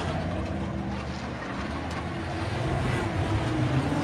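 A loud, rumbling racing boat engine, number 15, drones steadily nearby, its roar building slightly as it approaches, with wind buffeting the microphone.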